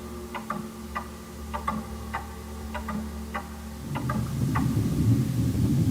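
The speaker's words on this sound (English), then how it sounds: "The loud sound of the hands of the clock ticking becomes too unnerving" Clock hands ticking loudly in an otherwise empty house, sharp regular ticks at a steady tick-tock rhythm over a low hum, with a rumbling noise rising in the last two seconds.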